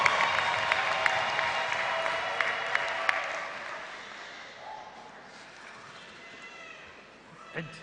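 An audience in Caird Hall applauds during a summer graduation ceremony. The clapping is dense and full at first, then thins and fades over about four seconds into a quiet hall, with a brief knock near the end.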